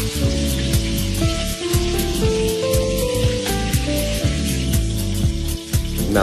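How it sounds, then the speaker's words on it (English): Seasoned cabbage roasts in a hot pan, giving a dense, continuous sizzle and crackle like rain on a surface. It stays steady and close, with no voices. "we're going to place our cabbage, which you season inside of the pan, to season and then roast"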